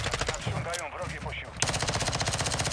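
Rapid automatic gunfire in Call of Duty Modern Warfare II DMZ mode, loud rhythmic bursts at the start and again in the second half, with a voice talking in between.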